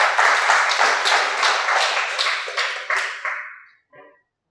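Audience applause at a student government induction ceremony, brisk clapping from a modest crowd that tapers off to a few last claps before stopping.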